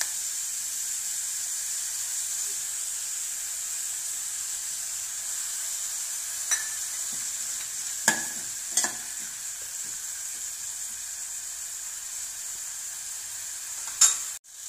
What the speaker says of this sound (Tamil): நல்லா வதங்கிடுச்சு வெங்காயம்.